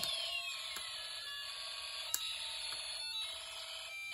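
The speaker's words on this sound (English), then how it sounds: "you'll hear a combination of sounds from the music, alarm, and space war integrated circuits" Electronic tones from Snap Circuits music, alarm and space war integrated circuits beep and warble in a steady alarm-like pattern, layered with high synthetic buzzing and occasional sharp clicks, with no voices.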